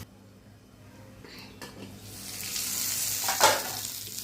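Elephant foot yam roasting in hot oil in a pan, a soft sizzle that swells steadily louder, with a few light clinks of a utensil and no talk.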